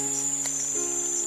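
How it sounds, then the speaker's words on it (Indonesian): A single large cricket, about to be used as fishing bait for gourami, chirps in a steady, continuous high trill close by, with no voices. "Cuma jangkrik ini lumayan agak besar nih mas bro."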